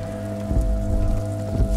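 Steady rain falls in the video game Disco Elysium, a continuous close patter over a low hum of ambient game music, with no voices.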